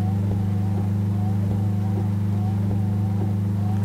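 A Peterbilt 351 truck engine cruises in Euro Truck Simulator 2, a loud, steady low drone with a faint tone that rises and falls in a regular cycle throughout.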